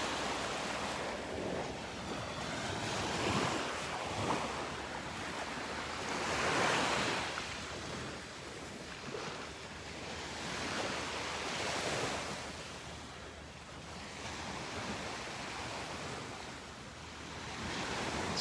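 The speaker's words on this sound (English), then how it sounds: "Gorgeous beach. About a mile of beach here." Ocean waves roll onto a beach at Delnor-Wiggins, a broad steady wash of surf that swells and recedes in slow surges, with wind buffeting the microphone and no talk.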